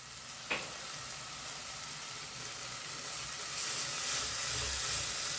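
Onion and tomato frying in a pan for boiled egg bhurji give off a soft, even sizzle that holds steady, with one small knock near the start.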